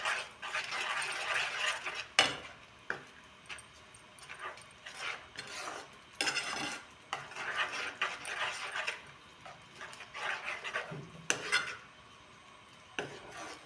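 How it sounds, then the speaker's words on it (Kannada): Gobi palya, a cauliflower dish, is stirred in a pan just after garam masala goes in: a spoon scrapes and clinks against the metal in irregular, close strokes with short pauses between them, and no talk. "ಗರಂ ಮಸಾಲ ಹಾಕೋಣಾಗುತ್ತೆ. ಹಾಕ್ಕೊಂಡು ಚೆನ್ನಾಗಿ ಇದನ್ನು ಮಿಕ್ಸ್ ಮಾಡ್ಕೋಬೇಕು."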